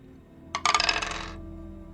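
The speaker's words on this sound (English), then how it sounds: "we'll just go ahead and roll 6 dice" Six dice tossed together for a tabletop role-playing game hit a hard surface with a sharp clatter, then rattle and tumble in a quick burst of clicks that fades out within about a second.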